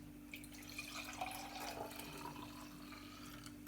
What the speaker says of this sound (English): pour this into your glass